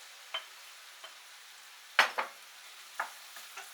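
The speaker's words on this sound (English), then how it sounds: "and fry that for a couple of minutes to mix all those ingredients together" Potatoes with spices being stirred in a frying pan over low heat, a few scattered scrapes and clinks of the spoon over a faint background sizzle, quiet and close with no voices.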